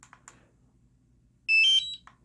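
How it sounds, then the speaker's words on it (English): A DJI Mavic Air remote controller gives a short, clear electronic power-up beep, a bright tone in an otherwise quiet room with a few soft clicks just before it. "A beep will indicate that the controller is powered up"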